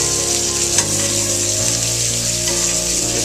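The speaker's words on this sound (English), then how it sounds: "a technique called basting, which where you lean your pan back, you grab the butter, and you put it over top" Butter spits and sizzles loudly in a hot pan while it is spooned over lamb lollipops being seared, a steady close frying hiss with a low hum beneath it and no talk.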